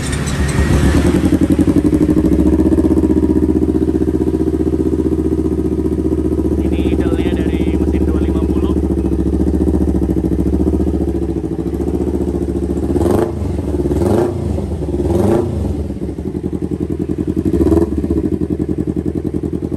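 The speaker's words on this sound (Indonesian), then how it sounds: "sama-sama knalpotnya udah nggak standar, kita akan cek perbedaan suaranya" A Kawasaki ZX25R and a Ninja 250 Fi, both 250 cc bikes fitted with aftermarket exhausts, idle with a steady, loud engine drone. A few sharp throttle blips rise and fall near the end.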